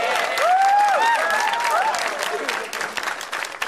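Audience applause fills a stand-up comedy show, a dense burst of clapping from a live crowd that swells early and slowly thins toward the end, with scattered voices and whoops mixed in.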